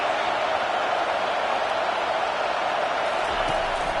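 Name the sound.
football stadium crowd noise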